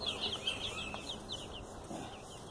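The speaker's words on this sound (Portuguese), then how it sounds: "O piado dele é forte, não é um piado rouco" Young chickens peeping and clucking in a henhouse, a series of fairly strong, high chirps repeating in quick bursts over low background noise, close but modest in volume.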